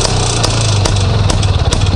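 An IZh Planeta motorcycle engine idles close by while warming up, with a steady low throb, punctuated by regular popping pulses roughly twice a second.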